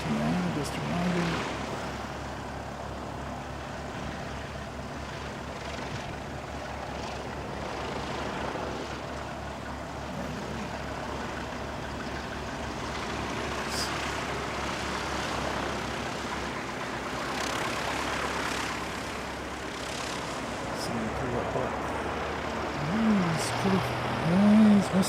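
An ATR turboprop airliner arrives at an airfield, its steady engine drone and propeller hum sounding from a moderate distance over a constant broadband background throughout, while a person talks intermittently nearby.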